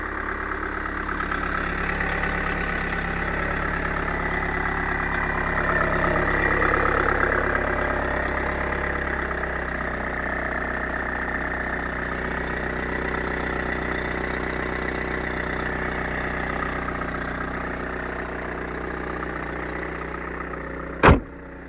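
A 2008 Mercedes W211 with the 2.2 CDI OM646 diesel engine idles steadily at close range, a smooth, even rumble with a mild rise midway and a brief click near the end.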